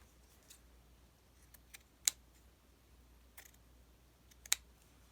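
Scissors snip craft material to length in a few faint, sharp, isolated clicks spaced across a quiet room, two of them noticeably crisper than the rest.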